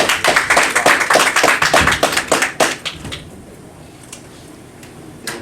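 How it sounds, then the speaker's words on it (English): Enthusiastic audience applause for a minister at a religious gathering: dense clapping for about three seconds, then it tapers to a few scattered claps with no talking. "One more round of applause."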